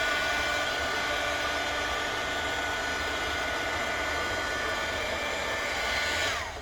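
Hair dryer blowing steadily on a decoupage napkin, a loud continuous whoosh with a faint whine that holds unbroken before cutting off at the end.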